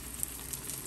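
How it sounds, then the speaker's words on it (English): Frozen sausage patties fry in a pan at a cabin, giving a soft, steady sizzle with faint crackles, quiet and close with no talking. "I'm gonna cook up these sausage patties."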